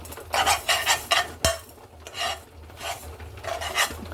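A spoon scrapes and stirs a spoonful of rice being lightly fried in a pan, with rhythmic rasping strokes of metal on the pan, a sharp clink near the middle, and faint sizzling between strokes.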